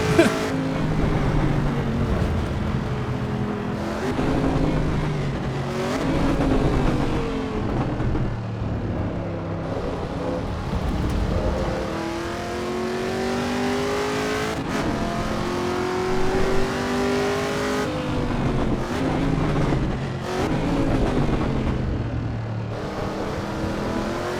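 Race cars in Assetto Corsa EVO roar steadily for the whole stretch, engines rising and falling through gear changes with several cars overlapping at close range, loud and continuous with no talk.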